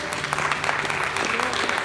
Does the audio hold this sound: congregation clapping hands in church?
yes